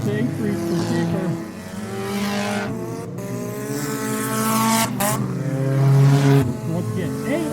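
Dirt track race cars battle three wide in a feature event, engines roaring loud and steady with rising and falling revs as they pass close, tires scrabbling through the turns, with an announcer talking over the din.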